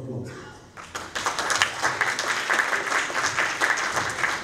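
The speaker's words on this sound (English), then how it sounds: "Round of applause" Concert audience at a New Year celebration breaks into a round of applause, dense steady clapping swelling in after a brief quiet start and holding loud to the end, with a voice faintly under it.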